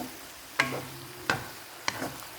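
Pork neck stir-fried in a pan for a Lao sour bamboo shoot dish gives three distinct scraping stirs over a soft, constant sizzle.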